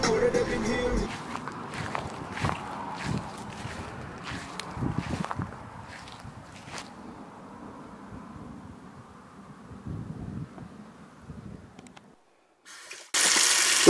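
Water runs from a household tap into a sink, a steady close gush with footsteps and movement around it, then a brief silence before a louder burst of flow at the end.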